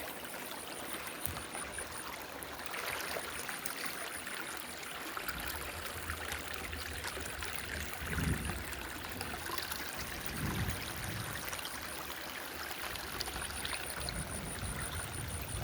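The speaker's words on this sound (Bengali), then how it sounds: "সুন্দর পানি বয়ে যাচ্ছে।" Clear water of a hill stream runs steadily through jungle-covered hills at Naikhongchhari in Bandarban, a continuous close rushing and trickling wash with a few deeper gurgles, with no voices over it.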